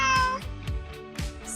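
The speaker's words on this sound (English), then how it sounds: "you can hear them echoing from the top as they're meowing" Cats exploring a new house give several short, clear meows in quick succession, close by, with a slight echo and no talking.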